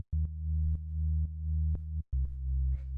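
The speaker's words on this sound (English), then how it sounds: "you can hear when I turn that second oscillator on, it's slightly fatter" An FM synth sine wave with a second oscillator switched on, adding harmonics for a fatter organic house tone; repeated low sustained notes with clicky attacks, thicker and buzzier than a pure sine, heard alone.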